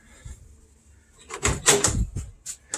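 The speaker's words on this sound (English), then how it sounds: "When the door closes, you can tell it's wanting to jump a little bit." Door on a 1968 VW Beetle Autostick being closed, a single close, solid shut with a short rattle after it. Faint ambient noise comes before it.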